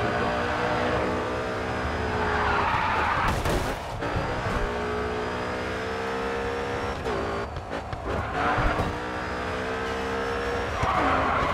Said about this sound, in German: Oh, der kann driften.